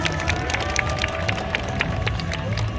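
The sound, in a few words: crowd applause at a rally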